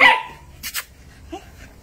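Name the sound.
small dog barking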